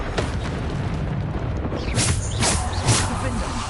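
Explosion-spell blasts in Hogwarts Legacy, a run of muffled booms and bursts building over the last two seconds and layered under a busy combat mix with a voice calling out.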